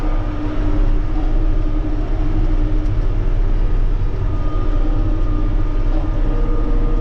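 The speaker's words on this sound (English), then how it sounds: "Tractor is still playing up." A 29-year-old John Deere 8760 tractor engine runs steadily on a farm, a loud continuous low rumble and drone holding without a break, with no voices over it.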